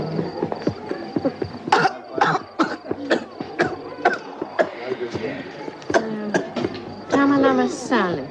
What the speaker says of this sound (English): The cough is very bad.